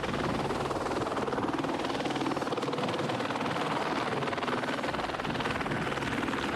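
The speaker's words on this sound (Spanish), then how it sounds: "Este es el último helicóptero para recoger el último cuerpo." A helicopter flies overhead during a rescue operation in Nepal, its steady rotor roar loud and continuous throughout, with no voices.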